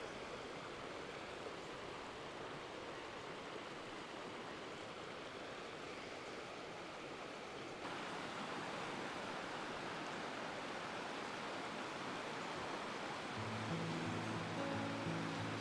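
Whitewater river at Whitewater Preserve rushing as a steady broadband roar, constant and unbroken, heard alone with no voices.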